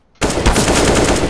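A submachine gun in CS:GO opens up after a brief silence, firing a loud, close, rapid burst of shots that runs without pause to the end.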